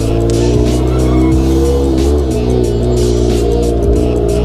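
Honda Supra motorcycle with a loud aftermarket exhaust revs hard up close at a roadside workshop, a throaty engine roar rising and dipping through several throttle blips, loud and continuous.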